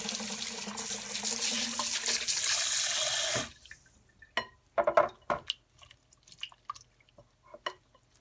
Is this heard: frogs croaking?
no